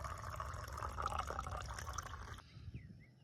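Hot water poured from a Kelly Kettle, a steady close trickling and splashing stream that stops abruptly, leaving a quiet tail.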